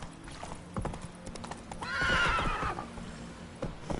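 Roach, a horse in The Witcher 3, walks with a steady clip-clop of hooves close by, and a whinny rises briefly in the middle of the footsteps.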